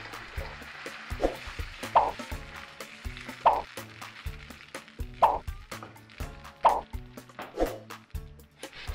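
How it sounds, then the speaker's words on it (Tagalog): Creamy white sauce with smoked salmon, black pepper and chili flakes bubbles and sizzles in a pan, with soft plops and stirring scrapes recurring every second or so at close range. "Then, add na natin ang white sauce. Mix well and cook for 1 minute."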